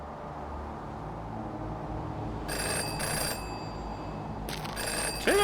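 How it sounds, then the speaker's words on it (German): A telephone rings twice inside the detective adventure game Jenny LeClue, with a short electronic trill and then a second burst, heard over a steady hiss of background noise. "Telefon!"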